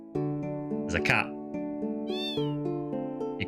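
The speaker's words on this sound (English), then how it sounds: "There's a cat." A cat meows in the Final Fantasy VIII Remastered video game, several clear tonal mews, one rising and sliding, over steady game music with a soft background chime.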